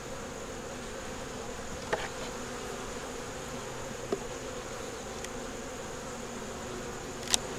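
Honey bees drone in a continuous, even buzz on a hive frame, close and steady, with a few faint clicks and ticks scattered through it and no talking.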